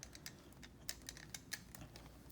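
Repeated sharp clicks of a barrel curling iron being twisted through hair during a state board practical, quiet and irregular, spaced a fraction of a second apart with no talk.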